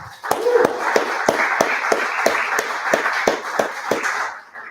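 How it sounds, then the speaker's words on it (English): A live-show crowd applauds steadily at the close of the evening, a dense wash of clapping with sharp individual claps standing out, loud and continuous throughout before tapering off at the very end. "Give yourself a hand."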